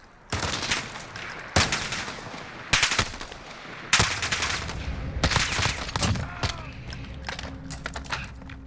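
MK 14 EBR Mod 0 rifle in the video game Call of Duty: Modern Warfare, several sharp single shots spaced about a second apart, each loud crack trailing off into echo over quieter game noise.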